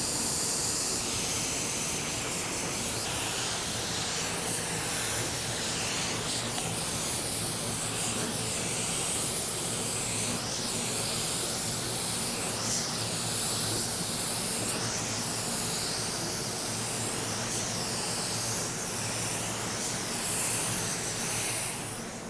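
A small compressor-fed spray gun hisses continuously and evenly while laying down a coat of paint, a steady close airy spray with no pauses throughout.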